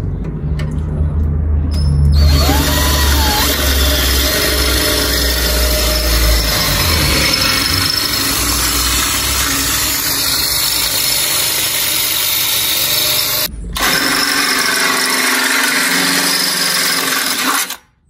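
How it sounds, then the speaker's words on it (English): A power drill whirs continuously for long stretches, drilling screw holes for car intercooler mounting tabs, briefly stopping and restarting, with a low engine-like hum underneath and no speech. "Now we're going to drill a hole for the screws for the mounting tabs for the intercooler."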